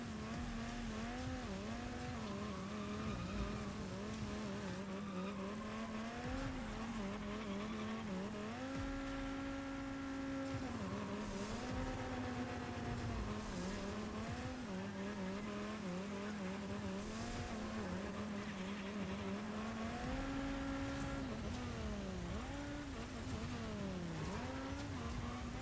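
Race car engines whine and rev in Fortnite Rocket Racing, pitch swooping up and down through shifts and boosts, with steady tire noise and occasional squeals throughout, mostly alone without talk.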